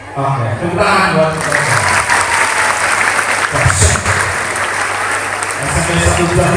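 Audience applause at a school gathering, a steady sustained clapping from a crowd lasting throughout, loud and dense with some voices mixed in.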